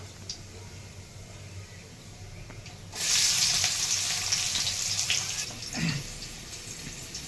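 Chopped onion drops into hot oil with cumin and mustard seeds, setting off a sudden loud hissing sizzle that keeps going steadily after a quieter opening, with a brief stir toward the end.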